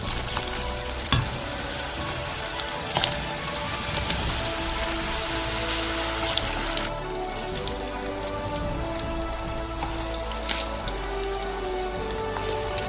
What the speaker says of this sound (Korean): 기름을 170도까지 가열하고 감자를 투하해주세요.